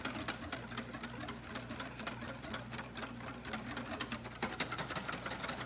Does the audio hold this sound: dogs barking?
no